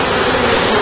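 Dense, steady buzzing of many honeybees swarming over an open hive during a frame inspection, loud and close, continuous with no talk over it.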